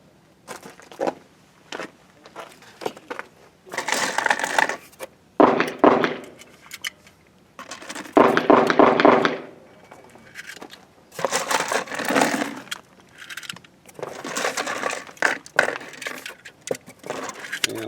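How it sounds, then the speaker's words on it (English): Cartridges pressed one by one into Chip McCormick Custom 1911 .45 magazines, a series of clicking, scraping metal snaps in irregular bursts, close and fairly loud, with no talk. "We're going to load up the Chip McCormick Custom mags and see how easily they load"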